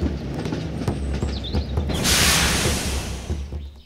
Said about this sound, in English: Mario decides to reverse the train and figure out a solution.